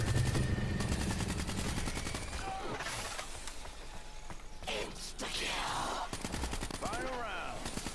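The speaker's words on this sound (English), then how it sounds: "you're trying to shoot them all and take out the Margwa" Rapid gunfire in Call of Duty Black Ops 3 Zombies during a fight against a Margwa, with repeated bursts of automatic shots mixed with game effects and mechanical clatter, fairly loud throughout.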